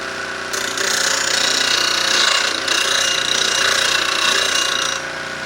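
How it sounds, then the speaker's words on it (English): A blade wing being ground and sharpened on a grinder, a loud continuous harsh whine that starts abruptly and holds steady for several seconds with a brief dip midway, close and without speech. "go back and forth until you get your entire wing sharpened"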